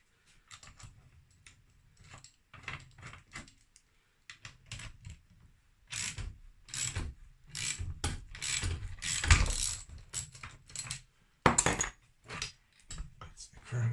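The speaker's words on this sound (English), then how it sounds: "And now I've got the crank tool on." Mechanical clicking and ratcheting as a crank puller tool is screwed in to push the crankshaft out of a 2001 Yamaha DTR 125 two-stroke motorbike engine, in irregular close bursts with pauses and louder knocks near the end.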